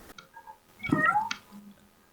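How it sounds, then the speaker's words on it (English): A domestic cat meows once, a drawn-out call close by in a quiet room, preceded by a faint soft murmur. "My cat's meowing."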